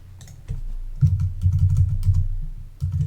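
Bursts of typing on a computer keyboard during iOS tweak development work, clattering in short runs with brief pauses, close and fairly loud with no talking.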